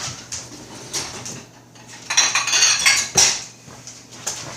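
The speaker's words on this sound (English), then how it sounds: "I take a little Pyrex bowl like this." A small glass Pyrex bowl is picked up and set down in a kitchen, giving a run of bright clinks and scraping knocks of glass against a hard counter, close and fairly loud.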